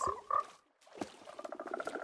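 Frogs croak from a built enclosure in a Minecraft-style game world, a quick rhythmic run of close, even croaks following a few louder calls, with no talking.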